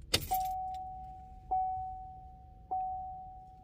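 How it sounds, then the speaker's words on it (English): A car is started with a key: a key clicks in, then a steady warning chime rings out, repeating about three times, close and clear in a quiet interior. "So what I'm gonna do now is I'm gonna turn the car on."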